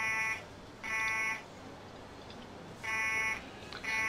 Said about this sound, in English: Alright, fire alarm where?